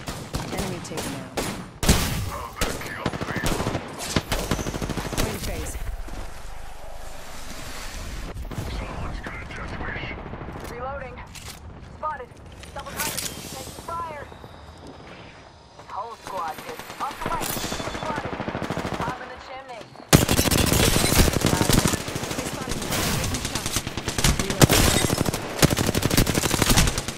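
Gunfire in a multiplayer shooter video game: rapid machine-gun bursts and scattered shots, loud and close, with a brief quieter lull before a dense heavy volley. Talk runs intermittently underneath.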